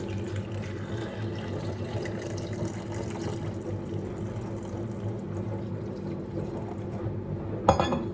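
Warm water pours into a pickle jar of gooseberries in a steady, soft trickle for several seconds, ending with a brief glassy clink near the close.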